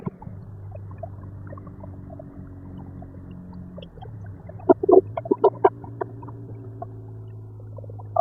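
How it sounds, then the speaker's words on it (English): A manual car's engine drones steadily and shifts pitch as it drops from fifth to fourth to third gear, with a few sharp clunks from the gear change in the middle. "When I downshift, I go through each gear like I'm about to do now."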